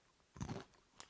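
A single crisp crunch of Buffalo Ranch flavored Takis rolled tortilla chips being bitten, close and alone, followed by a faint second crackle.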